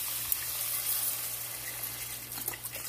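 Chicken broth pours steadily into a pan in a soft continuous trickling stream, fairly quiet and close, with no voices.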